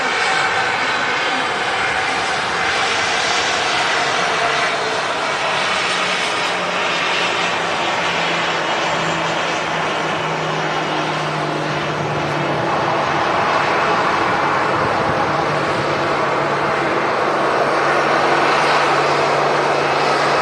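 A fixed-wing airplane at Manchester Airport roars steadily for the whole stretch, a loud, continuous engine drone that swells slightly toward the end, with no voices over it.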